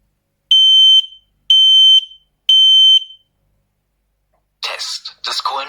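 An X-Sense combination smoke and carbon monoxide detector in test mode sounds three loud, shrill, evenly spaced beeps, then falls silent before a voice speaks briefly.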